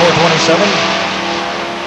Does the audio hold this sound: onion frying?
no